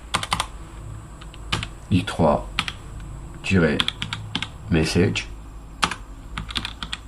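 Typing a command on a computer keyboard, with sharp, close key clicks in irregular bursts while someone speaks between and over the keystrokes.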